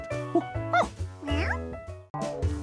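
A cartoon dog in an animated Curious George episode lets out a run of short, close, voiced yips and bow-wow barks, with a voice in the background.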